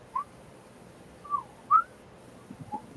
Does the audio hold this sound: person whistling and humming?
yes